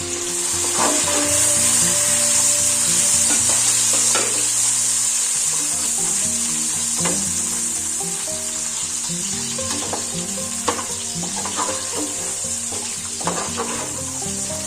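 Loud steady sizzling as chicken is added to a hot frying pan, with occasional stirring scrapes and clatters over the constant hiss of frying.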